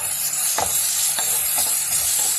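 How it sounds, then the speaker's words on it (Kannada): A steady close sizzle of onions roasting in oil with cloves, cinnamon, bay leaf and cashews, broken by a few soft scraping stirs of a spatula, no voices. "ಈರುಳ್ಳಿ ಒಂದು ಕಪ್ ಹಾಕ್ಕೊಂಡಿದ್ದೀನಿ, ಚೆನ್ನಾಗಿ ಸ್ವಲ್ಪ ರೋಸ್ಟ್ ಮಾಡ್ಕೊಳ್ಳಿ ಅದನ್ನು."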